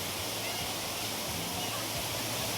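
Steady broadband roar of a hidden waterfall pouring straight into the sea near Mabini, loud and continuous throughout, with faint voices murmuring underneath.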